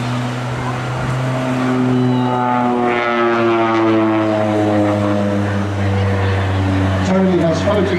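A Bronco propeller aircraft passes at the Rhyl airshow, its loud droning engine note sliding upward and then falling away as it flies by, with a public-address announcer talking over it.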